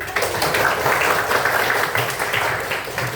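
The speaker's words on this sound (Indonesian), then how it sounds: "Oke, tepuk tangan" A classroom of students claps together in a dense, sustained burst of applause that stays loud and even for the whole stretch.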